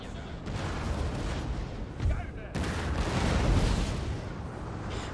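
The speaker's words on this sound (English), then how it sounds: "So now we're just bombarding the crap out of them." Artillery bombardment in a Napoleonic-era Total War battle with Darthmod: continuous rumbling booms and crackling cannon fire, loud and sustained, with a few sharper blasts standing out and faint battle din underneath.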